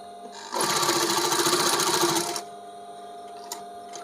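A sewing machine stitches the pocket on a men's shirt in one steady, close, loud run of about two seconds, then stops, leaving quiet room tone with a brief tap near the end.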